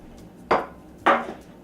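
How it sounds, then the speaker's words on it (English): Cooking spray hisses into an 8x8 baking pan in two short bursts, close and fairly loud with quiet gaps between them. "You want to spray your pan first."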